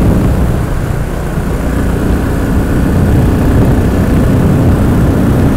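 A Royal Enfield Continental GT motorcycle on a road ride: a steady, loud engine drone blends with heavy rushing wind for the whole stretch, with no breaks and no talking.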